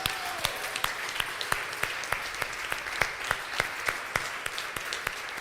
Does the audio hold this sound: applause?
yes